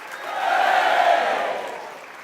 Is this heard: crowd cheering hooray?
yes